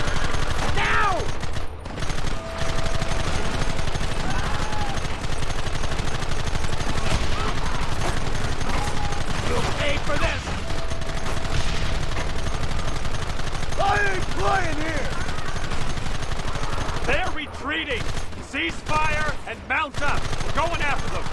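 Repeated gunfire crackles through a Red Dead Redemption shootout on Xbox 360, with bursts and single shots scattered across the stretch amid game noise and shouted voices.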